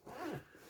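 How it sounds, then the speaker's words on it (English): A single quick zip comes from the top compartment of a padded tyre warmer bag. It is brief, close and soft, with no talk. "You got a little zipper compartment up the top."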